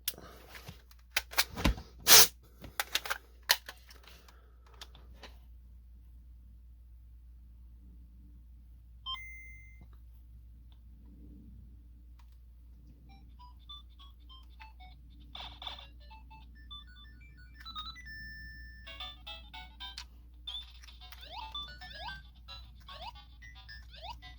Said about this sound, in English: there's the classic Game Boy Pocket speakers on a classic game